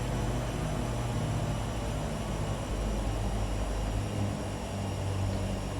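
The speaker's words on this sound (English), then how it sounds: "And propeller down to idle." Steady aircraft engine drone from a Realair Turbine Duke BE60 in a flight simulator, propeller pulled back to idle, a dense continuous hum with low tonal bands holding evenly throughout, no voices.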